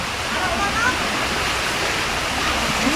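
Floodwater rushes across a farm, a loud, steady wash of roaring water that fills the whole stretch, with speech faintly mixed beneath it.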